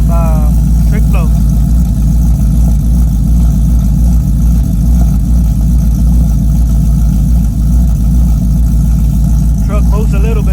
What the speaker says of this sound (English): It's got a small leak on the exhaust. I can hear it. That's how it sounds.